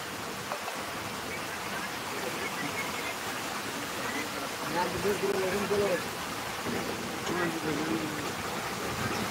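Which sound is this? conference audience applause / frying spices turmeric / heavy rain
heavy rain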